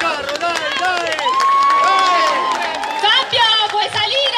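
A crowd at a carnival float award ceremony in Ortona, Italy, cheers and applauds loudly and continuously, with whoops and overlapping voices layered through the noise.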